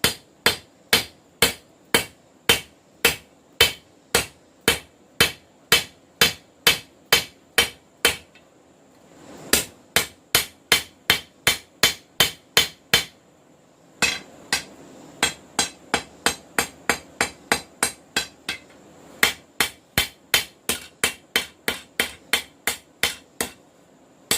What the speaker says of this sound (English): I'm almost through forging out the blank